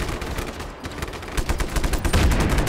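Rapid bursts of automatic gunfire in Just Cause 3, loud and close, firing in dense clattering volleys with no talk.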